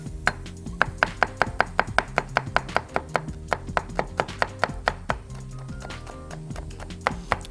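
A knife chops hot chili pepper on a cutting board in a home kitchen, fast, evenly spaced sharp knocks close by. The run briefly pauses and then resumes with a few last strikes.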